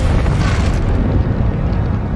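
A Bombarda spell explosion in the video game Hogwarts Legacy erupts as a loud, sustained boom with a crackling burst, then a dense rumbling roar that carries on without any talk.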